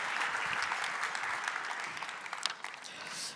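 Applause from the audience at the Open Innovation Congress Baden-Württemberg 2023, sustained dense clapping that tapers off toward the end, with no one speaking over it.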